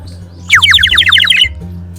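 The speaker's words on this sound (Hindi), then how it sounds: "जैसे आवाज निकालोगे जैसे ही चिड़िया बोलती रहेगी।" A water-filled bird whistle sold at a Udaipur crafts village gives a quick run of rapid, chirping tweets, close and clear for about a second over faint background hum.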